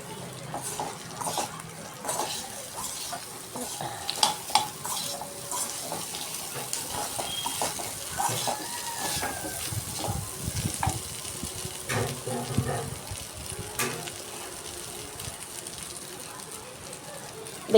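Small peeled potato cubes tossed into a hot pan, crackling and hissing continuously while a person talks over the cooking.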